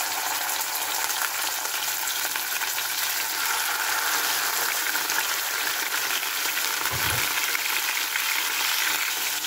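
Talakitok fish frying in hot oil in a pan, a steady broadband sizzle that holds evenly throughout, with one brief low bump near the end and no talking.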